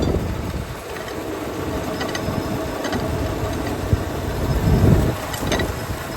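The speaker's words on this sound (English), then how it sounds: "You see those little blades spin around, and the guys move the rotors back in, and it gets everything." A farm machine in a pumpkin field runs with spinning blades and rotors, giving a steady mechanical clatter and whir with faint rhythmic ticking. It holds loud and constant throughout, with a slight swell near the end.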